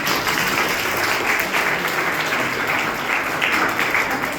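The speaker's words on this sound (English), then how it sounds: "So please clap for her." A school auditorium audience gives a sustained burst of applause for a student TED talk speaker, dense and even throughout.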